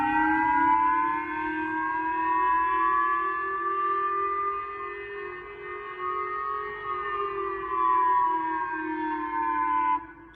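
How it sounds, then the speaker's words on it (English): A wailing air raid siren holds a steady, slowly rising and falling tone for about ten seconds, loud and continuous, with no voices. "people who were on the ground had actually listened to some of the air raid sirens going off"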